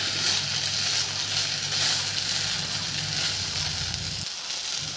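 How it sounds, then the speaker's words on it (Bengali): Maggi noodles fry in a pan for an egg omelette, giving off a loud, steady sizzle and hiss that fills the clip before dropping suddenly near the end. "ম্যাগি যেটা রেডি করে রেখেছিলাম সেটা ভালো করে দিয়ে ওলট পালট করে ভেজে নেব"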